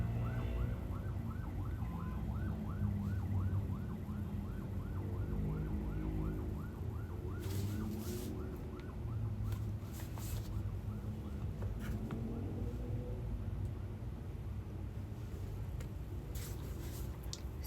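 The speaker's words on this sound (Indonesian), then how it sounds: "Suara ambulans itu." An ambulance siren wails steadily outside in Cibinong, its rising and falling tone running for several seconds under constant street traffic noise, then fading as it moves away.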